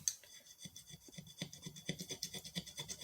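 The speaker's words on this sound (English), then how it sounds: "I'm actually rolling up the glue as I scrape." A scraper pulling glue off a painted glass bottle, rolling the glue up as it goes: a quiet run of short, rhythmic rasping strokes, close by and with no voices.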